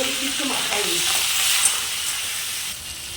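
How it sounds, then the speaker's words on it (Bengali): Prawns frying in hot oil with green chilli give a steady, bright sizzling hiss close up, with a faint voice murmuring briefly at the start. "কাঁচা লঙ্কা ফোড়ন কেন দিয়ে দিলাম চিংড়ি মাছটাকে তেলের উপর দিলাম চিংড়ি মাছটাকে"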